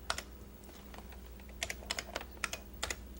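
Someone types on a standard AT computer keyboard, with quiet scattered keystrokes at first and then a run of sharper, distinct clicks in irregular rhythm, close and alone.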